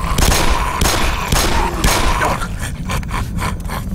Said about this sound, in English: Shoot the damn thing!